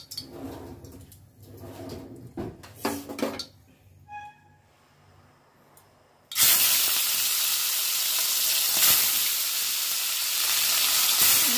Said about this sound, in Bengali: প্রথমে আমি ইলিশ মাছগুলো একটু ভেজে নেব